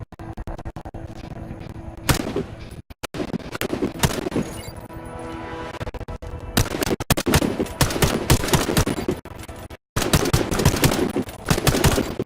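Rapid automatic gunfire from shooting at targets in the video game Warface, with loud sustained bursts and dense cracking volleys broken by short pauses.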